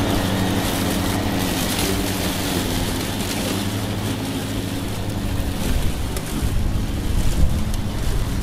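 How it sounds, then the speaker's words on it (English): A Makita 40V cordless lawn mower runs at full speed with self-propel engaged and the blade spinning hard, a loud, constant whirring drone with rushing noise that continues unbroken throughout. "Full speed on the self-propel to try and drain these batteries, and full grunt on the spinning of the blade."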